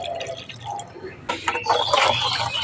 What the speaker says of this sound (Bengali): এর মধ্যে অল্প দিচ্ছি একটু জল।